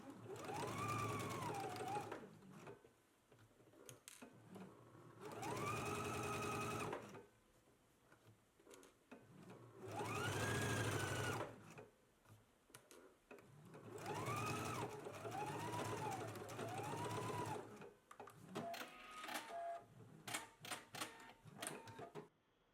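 A sewing machine stitches a 5/8 inch seam in bursts, running in several separate steady whirring runs with short pauses between them, ending in lighter rapid ticking.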